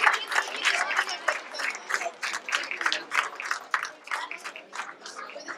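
A crowd at a science fair claps steadily for several seconds, a dense patter of hands that fades slightly toward the end.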